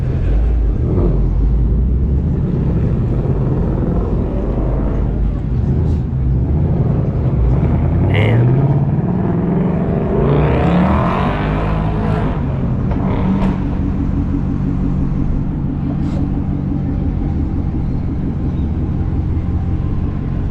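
A black Chevrolet Corvette C6 Z06 at a cars and coffee meet sends out a steady, loud engine rumble that swells around the middle as it passes, with faint voices underneath.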